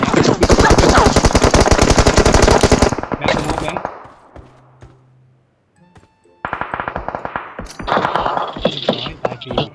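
Automatic weapon fire in the video game PUBG Mobile: a long, rapid burst of loud shots, a short quiet gap, then further bursts of rattling gunfire, with some voices talking in between.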